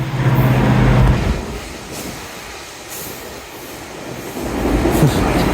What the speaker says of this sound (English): We're gonna stop this because the train's coming.